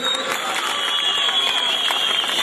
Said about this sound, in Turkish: Güçlü alkışlarınızla